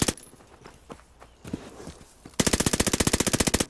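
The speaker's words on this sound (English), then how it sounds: "Hip fire spread, even from this distance, is pretty wide." Armaguerra submachine gun fired from the hip in a first-person shooter team deathmatch: a few scattered shots and footsteps, then a loud, rapid sustained burst of automatic fire with evenly spaced, punchy reports.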